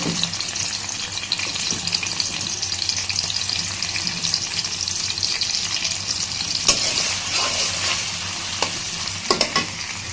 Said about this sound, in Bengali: তেলের ভিতরে কলা পেঁয়াজ দিয়ে দিতেছি